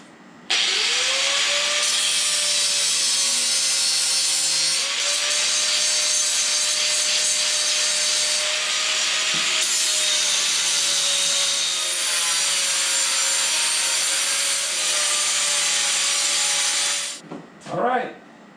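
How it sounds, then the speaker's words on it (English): A power grinder cuts off leftover screw ends on a folding Mastercraft steel work table, a loud, steady abrasive whine holding for about seventeen seconds before winding down near the end. "So let's grind the leftover of the screws."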